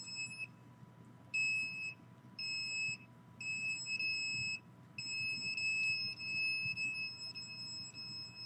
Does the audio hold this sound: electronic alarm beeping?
yes